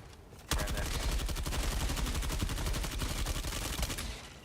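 Sustained automatic gunfire from a weapon in Helldivers 2, a rapid, even stream of shots that starts abruptly and runs for about four seconds before stopping, fairly loud against a quiet background.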